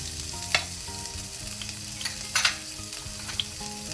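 Cumin seeds, chopped green chili and grated ginger sizzle steadily in a pan for a radish paratha filling. The frying is close and continuous, with a few sharp scrapes and stirs of a spoon against the pan.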